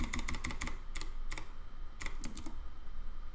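Rapid clicking on a computer keyboard comes in close bursts of keystrokes, first a quick run and then a few scattered taps, over a steady low background hum.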